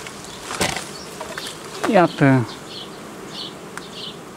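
Honey bees buzzing on a brood frame lifted from a hive in July, a low drone with a louder close pass of a bee near the middle, while someone speaks briefly.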